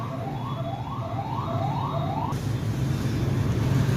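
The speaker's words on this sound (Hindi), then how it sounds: "गाड़ी आ गई थी बेटा पुलिस की" Police car siren passing outside near a coaching class at night: a steady repeating wail, loud but somewhat muffled by walls, over a constant background rumble with no talk.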